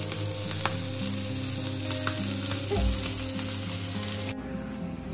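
Oil sizzles steadily on a gas stove, a dense even hiss with a low background hum, cutting off abruptly near the end to a quieter tail; no voices.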